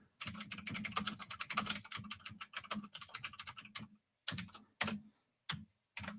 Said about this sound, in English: me and my loud keyboard